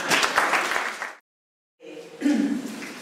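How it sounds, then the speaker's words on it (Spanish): Audience applause at a university talk, dense clapping that fills the room, breaks off into a short silence, then resumes with more clapping mixed with faint murmuring. "Es un conversatorio, pero es un aplauso, por favor."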